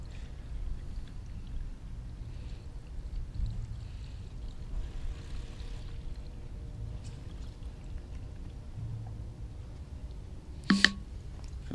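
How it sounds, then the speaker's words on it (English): Seafoam fuel additive pours and glugs steadily into a Duramax diesel fuel filter over a low background rumble, with a brief sharp clink near the end. "you guys are going to just want to pour this Seafoam straight in there"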